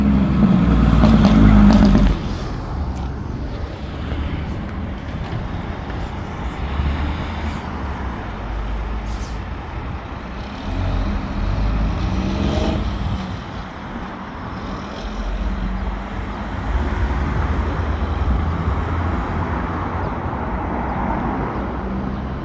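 A custom truck with a Dutch bumper driving along a road, engine noise rising and falling as it passes, with steady road rumble and a louder burst at the start.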